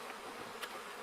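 Bees buzz faintly around their hive outdoors at an off-grid homestead, a soft continuous insect hum with one slightly louder pass midway.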